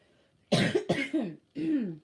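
Three harsh coughs close up, the first two in quick succession and a third after a short pause, with no talking.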